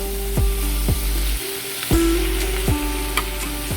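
Kangkong (water spinach) dropped into a hot pan: a loud, steady sizzle over a low background hum, with a few sharp clatters as the greens land and shift, no talking.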